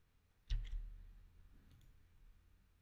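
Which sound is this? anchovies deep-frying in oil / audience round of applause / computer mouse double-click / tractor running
computer mouse double-click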